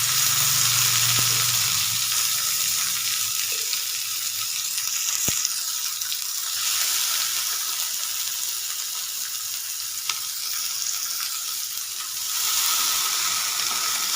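Shrimp paturi wrapped in pumpkin leaves fries in hot oil, giving a steady, close, even sizzle that runs the whole time with no voices.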